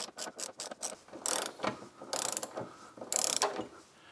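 A ratchet tightens suspension bolts on the rear axle of a BMW Z3, clicking in quick close bursts of short strokes, loud and near, with no talking.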